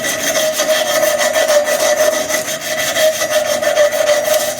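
Steel fork tubes for a handmade track bicycle fork are sanded by hand with sandpaper, giving a steady, continuous abrasive rubbing with rhythmic back-and-forth strokes, close and fairly loud, with no talking.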